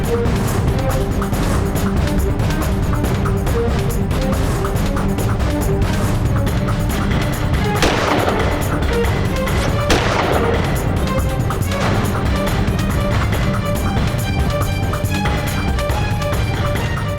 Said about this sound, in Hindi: इतनी पास से 2 गोलियां केडी की छाती में और वो अभी जिंदा है।